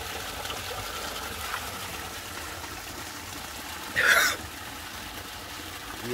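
Cold water trickling in a natural stream on an outdoor walk, a steady soft babble throughout with a brief louder splash near the end as water is scooped up to drink.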